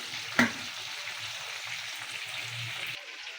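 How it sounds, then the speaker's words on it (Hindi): Chicken for tandoori chicken fries in a pan with a steady, close sizzle, marked by a single utensil clink near the start and no speech. "बस चिकन भी हमारा फ्राई हो जाए"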